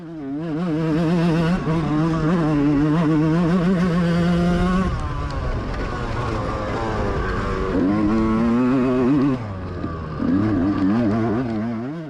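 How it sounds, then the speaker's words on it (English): A dirt bike engine revs and races through the woods during a GNCC off-road race, the loud, steady drone rising and falling in pitch as the rider works the throttle, with no talking. "I'm trusting that the bike is running okay now."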